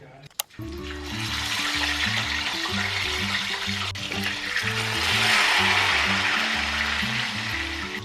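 Steady hissing sizzle of fish frying in a pan, continuous and fairly close, with a low tonal hum running underneath and a brief knock at the start.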